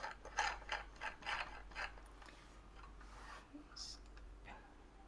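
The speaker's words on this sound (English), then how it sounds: "Loosen the screw at the bottom of the ring light base." A screw on the base of a Neewer 18-inch ring light is loosened, producing a run of small ratcheting, clicking mechanical turns up close, quiet and fading out after a few seconds.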